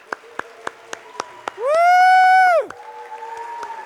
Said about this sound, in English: Let's give another round of applause to our recipients this evening